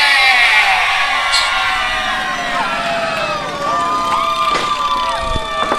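A wrestling crowd at a live RWA event cheers and whoops for T-Phoenix, a loud, sustained roar that fills the whole stretch, with an announcer's voice running over it.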